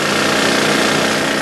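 Rock drill boring into the rock face deep in a South African gold mine, a loud, close, continuous pneumatic hammering roar with rapid even pulsing and no break.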